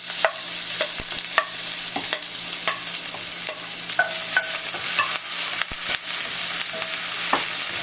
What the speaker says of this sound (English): the pan is hot and I'm just going to pour some oil in it. And then just put in the sliced ginger,